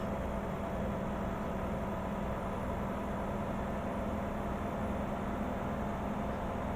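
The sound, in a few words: truck engine with slight whistle in American Truck Simulator video game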